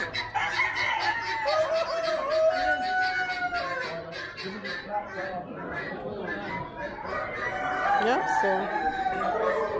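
Chickens and roosters cluck and crow continuously at a livestock auction, a busy chorus of fowl calls with a person talking briefly among them.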